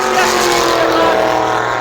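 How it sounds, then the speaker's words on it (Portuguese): Race car engines roar continuously at a Stock Car racing event, a loud, dense, sustained engine drone with a steady tonal whine throughout and no pauses. "Os motores estão roncando alto"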